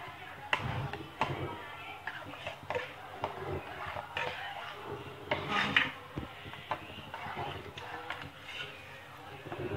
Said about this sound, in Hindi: तो इससे बिल्कुल अच्छे से हम मिक्स कर लेंगे।